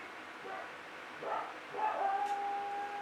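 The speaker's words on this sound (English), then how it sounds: "That's the dog letting us know." A dog barks and yelps at a distance, a few short calls followed by a longer, drawn-out howl-like whine.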